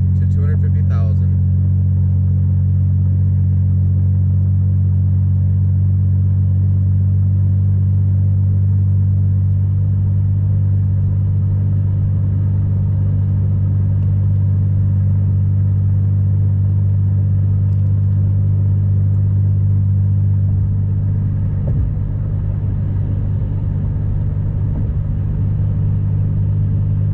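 A 2003 Chevrolet Impala with 250,000 miles, its engine droning in a steady low rumble from inside the car while driving, loud and constant throughout, with a faint voice early on.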